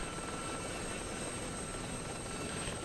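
A Mi-8 helicopter in a combat video game sits on the ground under fire, its rotor and engine making a steady, dense mechanical roar that holds evenly throughout, with no talking.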